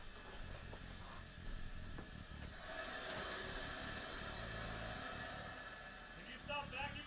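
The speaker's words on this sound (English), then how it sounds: "This vacuum is so loud." A vacuum cleaner runs just outside a door, a steady muffled whirring drone that continues throughout with no break.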